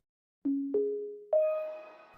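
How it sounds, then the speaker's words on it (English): The Windows 11 startup sound: a three-note chime plays alone, each soft tone stepping higher with a gentle attack and lingering ring, the last note fuller and sustained. "Microsoft has also changed the startup tune."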